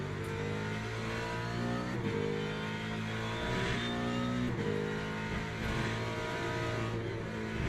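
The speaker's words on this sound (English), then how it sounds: "And full throttle." A GT3 race car engine in Le Mans Ultimate revs hard at full throttle, a loud steady climbing drone with brief dips at gear changes, heard alone without talk.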